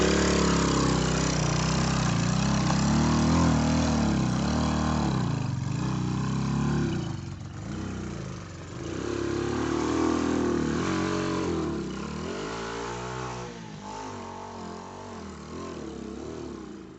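A struggling engine runs unevenly for the whole stretch, a loud, close, continuous rumble with uneven surges and dips in pace, rather like an idling motorcycle or small motor; no one speaks.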